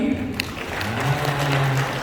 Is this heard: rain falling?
no